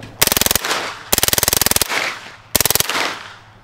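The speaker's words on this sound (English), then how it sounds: "We got an MP5 full auto." An MP5 submachine gun fires three full-auto bursts at an outdoor range, each a rapid, loud string of cracks followed by a brief echoing decay and pauses between bursts.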